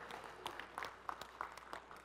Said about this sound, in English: Everybody give Marshall a round of applause